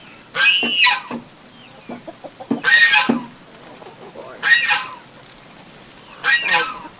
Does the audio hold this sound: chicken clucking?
yes